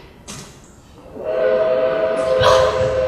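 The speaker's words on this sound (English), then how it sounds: "There's your train, now run for it!" A train horn sounds over rumbling rail noise as a train pulls in, rising loud and sustained after a quieter opening with background bustle, heard in a 2007 stage recording of The Music Man.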